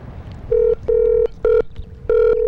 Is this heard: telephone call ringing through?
yes